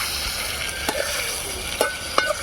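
Tempering spices frying in hot oil for Dindigul oil brinjal curry, a constant close sizzle and crackle with a few sharp clinks of a spoon stirring the pan.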